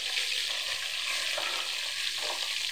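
Chicken pieces frying in a pan of hot oil, a bright, continuous crackling sizzle heard up close and steady for the whole stretch, with no talking.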